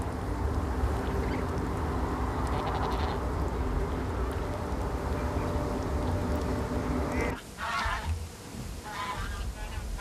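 Migratory waterbirds at the Nakdong River estuary give scattered quacking and honking calls over a steady outdoor wash of wind or water, faint and distant, with a brief dip in the background near the end.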